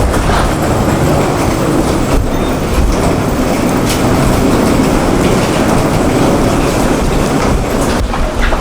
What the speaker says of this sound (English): this train is hideously noisy, sounds like it's going to fall apart at any point in time